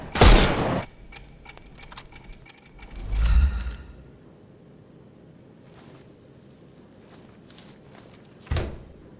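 Gunshots in the video game Sherlock Holmes Chapter One: a loud sharp blast at the start, a heavy thud, then scattered quieter clicks and a final sharp shot.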